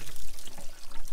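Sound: water draining from hot water tank

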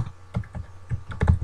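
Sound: typing on a computer keyboard

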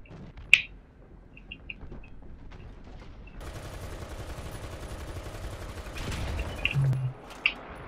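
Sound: tank gunfire in the video game War Thunder

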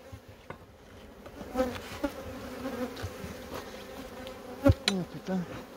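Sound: swarm of black honey bees buzzing

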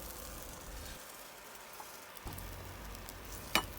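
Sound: Thai omelette frying in pan

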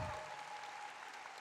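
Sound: audience applause

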